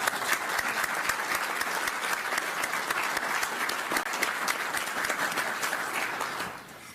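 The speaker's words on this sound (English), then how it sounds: "Let's give them all a round of applause." Sustained applause from a large audience at a defense leaders' meeting, dense steady clapping that fills the room for several seconds before fading at the end.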